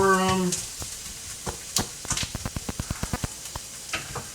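Diced onion frying in a pan on fairly high heat, crackling sizzle with sharp popping spits scattered across the clip, close up, after a brief voice at the start.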